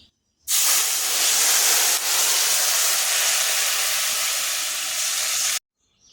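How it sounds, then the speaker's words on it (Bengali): Fish curry gravy poured into a hot pan of fried pumpkin bori gives a loud, steady sizzling hiss that starts abruptly, holds for about five seconds and then cuts off. "এবার কিন্তু এই ঝোলটা ঢেলে দেবো"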